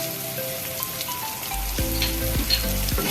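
Ground chili, coriander and cumin paste sautéing in a pan for aloo potol ghonto gives a steady, close sizzle with light stirring throughout, over faint background music.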